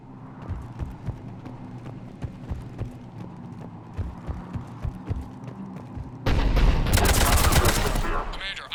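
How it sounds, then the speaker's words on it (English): Cannon fire from a Cerberus attack in the Mass Effect 3 video game: a run of sharp, rapid repeated shots, then a sudden loud, sustained blast of booming fire over the last two seconds. "The cannon fire is clearing the way."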